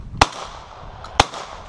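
Two sharp, loud blasts from a Browning Silver Hunter 12 gauge shotgun fired at clay targets, about one second apart, each followed by a short outdoor echo.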